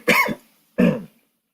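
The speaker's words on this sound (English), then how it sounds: "I had to cough" Two short, close coughs separated by a brief pause, then silence.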